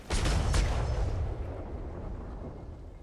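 Cannon fire in a pirate-themed roleplay video game, a booming blast or two in quick succession followed by a long rumbling decay that fades over a few seconds, loud and close, with no voices.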